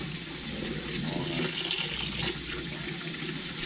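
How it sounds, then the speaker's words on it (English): Lukewarm tap water runs into an empty water bottle, a steady, soft rush of flowing water with light splashing and no voices. "I'm going to fill up this empty water bottle, and using sort of a middle lukewarm, I guess, temperature"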